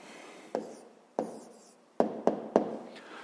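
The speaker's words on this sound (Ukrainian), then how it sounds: "записуємо відповідь" A pen jots down the answer to a fifth-grade maths exercise, heard as several quick, sharp scratching strokes and taps, close and quiet, with no talk.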